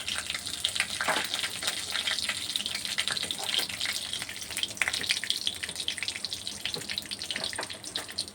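Whole cumin seeds and a bay leaf sizzle steadily in hot oil in a pan, a dense, continuous crackling hiss with small spitting pops throughout, close and fairly loud with no talking.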